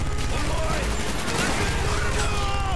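A minigun in a Call of Duty: Black Ops match fires in a dense, continuous roar of rapid shots, loud throughout with game noise layered over it.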